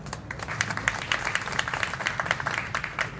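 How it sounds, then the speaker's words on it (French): Crowd at a gathering in Kati, Mali, clapping in scattered, uneven bursts, moderately loud with a faint murmur of voices beneath. "Applaudissez pour lui, s'il vous plaît."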